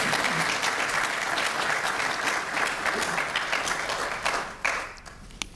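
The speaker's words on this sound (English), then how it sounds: "let's give all of you a round of applause" A lecture-hall audience at an inaugural academic lecture gives sustained applause, dense and fairly loud throughout, thinning slightly and tapering near the end.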